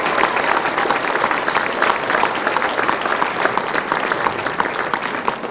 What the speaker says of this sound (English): Could I get a big round of applause for Thrive and all of our wives for putting this on?